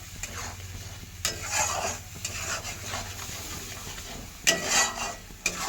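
Egg and potato curry base frying in a pan while being stirred, a steady sizzle under repeated scraping and clinking strokes of a spoon against the pot, close and moderately loud.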